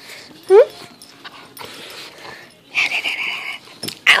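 Puppies whimpering and yipping in short, close bursts, with a rising whine early on and higher squeals near the end, under bits of nearby human chatter.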